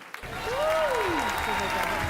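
Audience applause at a Ballon d'Or gala, a steady, fairly loud wash of clapping that swells and holds for about two seconds, with a rising and falling melodic tone and voices faintly mixed in.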